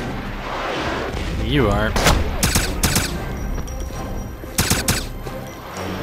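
Gunfire in the Wolfenstein (2009) shooter game: several loud, sharp bursts of shots cut through a busy battle soundscape, and someone speaks briefly between them.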